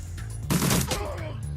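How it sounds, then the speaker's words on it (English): A burst of gunfire in the tactical game Shadowrun Dragonfall, one sharp, loud, tight cluster of shots that fades quickly into a short echoing tail. "Yeah, burst fire."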